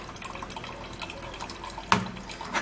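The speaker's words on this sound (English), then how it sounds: "Okay, so I'm going to be sieving this out." Cucumber and parsley juice is poured through a sieve, making a steady close trickle and dripping of liquid with one louder splash partway through.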